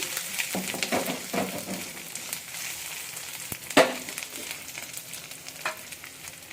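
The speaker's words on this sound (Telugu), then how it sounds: "అల్లం పేస్ట్ కూడా పచ్చి వాసన పోయే వరకు ఇలాగా కలియపెట్టు ఫ్రై చేసుకుందాము" Ginger paste and onions sizzling in a pan as they are stirred, a continuous close fry with scattered scrapes and one sharper knock partway through.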